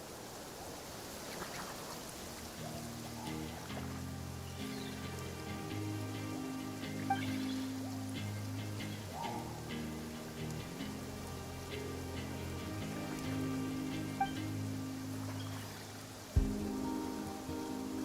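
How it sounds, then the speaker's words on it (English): Steady rain patters and hisses throughout, with a soft musical drone underneath and an occasional faint thump, no voices; rain in the video game Genshin Impact. "Rain?"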